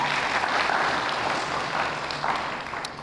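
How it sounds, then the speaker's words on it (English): Crowd applause at an outdoor Pride event in a park, a broad steady wash of clapping that holds loud throughout with no talk. "Round of applause to y'all."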